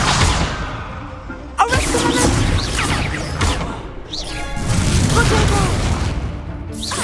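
Incendio fire spell repeatedly cast in Hogwarts Legacy on PS5, several sharp booming bursts and whooshes spread across the stretch, loud and close, with brief quieter gaps between impacts.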